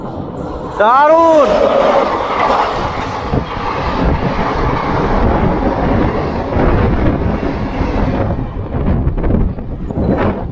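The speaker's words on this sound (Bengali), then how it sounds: "এই ট্রেনটি বারাণসী থেকে বাহারিচের উদ্দেশ্যে চলে যাচ্ছে" The 14213 Bahraich Intercity Express, running from Varanasi toward Bahraich, rumbles past with a loud, steady roar of wheels and wind, opening with a long horn blast; a voice briefly speaks over the passing noise.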